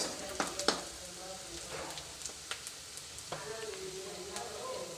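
Potatoes fry in a pan for a curry, a steady soft sizzle broken by a few sharp crackles and spatters near the start, heard up close with no talking.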